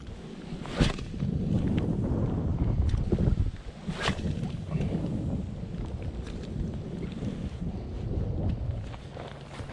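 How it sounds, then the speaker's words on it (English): Steady wind gusting across a fishing boat on open water in spring, a broad continuous rush with buffeting against the microphone and a couple of sharp knocks. "we do have a little bit of wind out of the west, so it will be blowing at me"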